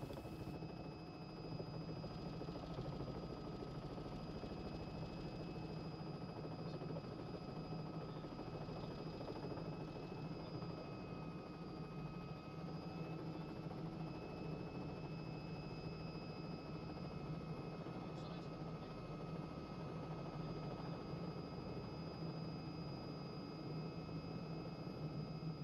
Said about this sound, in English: a confined area landing in a Robinson R66 helicopter